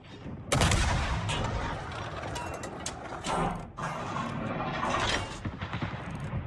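Heavy naval guns fire during a World of Warships battle, with a loud booming blast followed by sustained rumbling salvos and scattered thuds. The explosions keep roaring for several seconds before a second surge of fire.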